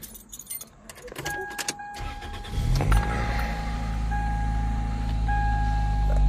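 Inside a car, deep, booming subwoofer bass from an aftermarket car audio system swells up and holds steady after a few seconds of door and key clatter, with a faint chime tone running throughout.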